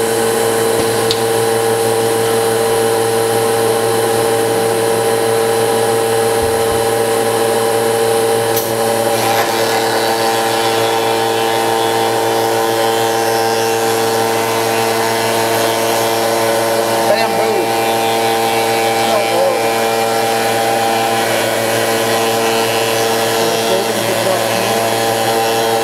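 A metal shaper machine runs steadily at a machinery show, ArnFest 2012. Its loud, continuous mechanical drone and hum stay unbroken throughout while people talk nearby.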